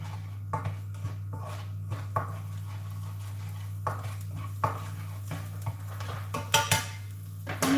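Garlic stir-fried in a pan over fairly high heat for a soy tofu, pak choy and mushroom dish, heard as scattered clinks and scrapes of a utensil against the pan over a steady low hum, with no talking.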